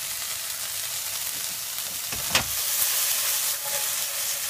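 Bean sprouts sizzle steadily while being stir-fried in a pan, a continuous close hiss with a brief louder burst of frying midway and no talking.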